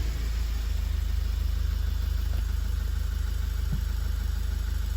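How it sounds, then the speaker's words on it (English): A Toyota Avensis engine idles steadily with a low, even mechanical rumble and faint vibration; no clear start is heard, and no one speaks. "I'm going to start the car now."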